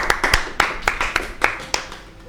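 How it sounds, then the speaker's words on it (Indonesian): A small audience at an alumni talk event gives a brief, sparse round of clapping. About eight distinct, sharp hand claps land unevenly in quick succession, then fade out. "Kasih tepuk tangan dong."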